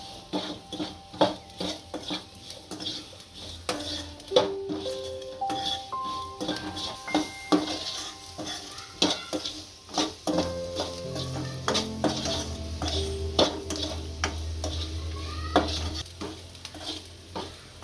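Gunda sambharo with chilli powder and sugar is stirred in a sizzling pan, the spatula scraping and clinking against the metal in irregular strokes, with a soft sizzle and melodic background music throughout.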